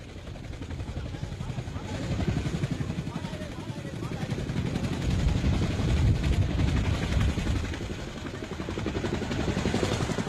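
A helicopter evacuating more than a hundred people during the 1975 fall of Saigon, overloaded beyond its fifty-passenger capacity. Its rotor and engine give a steady, close, loud roar that swells slightly midway and lasts throughout.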